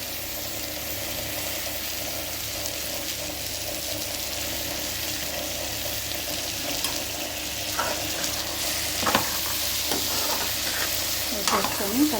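Onion and egg curry being stirred in a frying pan, a steady close sizzle with scraping spoon strokes growing busier toward the end.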